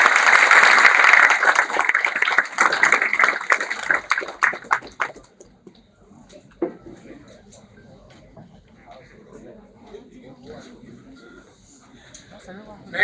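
An audience at a consumer protection and insurance seminar gives a loud burst of clapping to welcome a speaker, dense at first, then thinning out after about five seconds into quieter room noise and scattered sounds.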